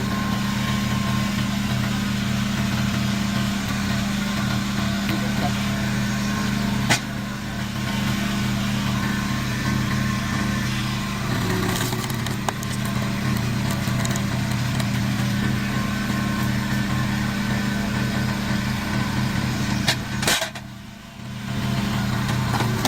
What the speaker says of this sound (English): The Petzolato TV900, a powerful, industrial-grade firewood processor